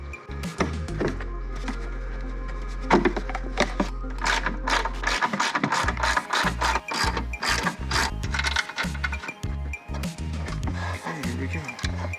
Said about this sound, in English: So let's back off this bolt, move the top of this airbox over